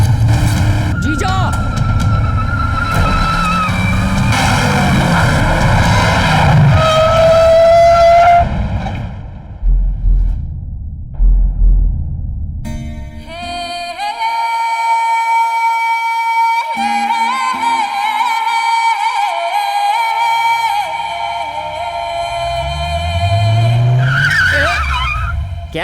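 A car starts and drives off with loud tire skids and revving engine, a long screeching slide followed by a sustained high whine and a closing burst of skidding, with voices briefly audible.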